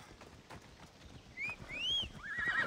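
A horse in the game Assassin's Creed Odyssey trots with soft clip-clop hoofbeats, then gives two rising whinnies and a final neigh, loud and close.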